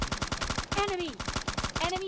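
Rapid automatic gunfire rattles in quick repeated bursts during a solo-versus-squad match in PUBG Mobile Lite, loud and close, with a voice talking over the shots.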